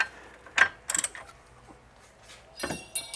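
A ratchet loosens a brake bolt on a Corvette with a few sharp metallic clicks and clinks, close and faint against quiet surroundings.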